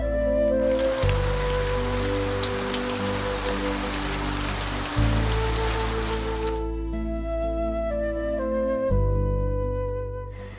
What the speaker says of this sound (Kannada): ಸ್ವಲ್ಪ ಮಳೆ ಬರುತ್ತೆ, ಸ್ಟಾಪ್ ಆಗುತ್ತೆ